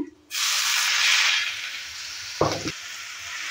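Grated squash hits a hot frying pan after the tempering, setting off a sudden loud hiss that slowly dies down, then a short scraping stir before the sizzle settles.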